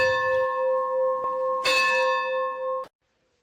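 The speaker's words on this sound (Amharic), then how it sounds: "ደውል" A church bell rings with a few bright struck tones that sustain and overlap, loud and near, before the ringing stops abruptly.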